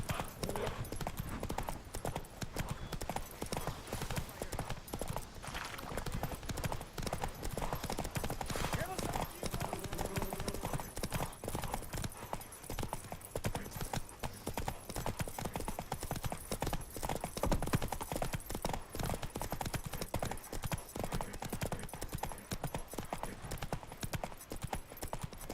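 Hoofbeats of Roach, the horse in The Witcher 3, clip-clopping steadily and continuously at close range with game sounds underneath, while a voice speaks over them now and then.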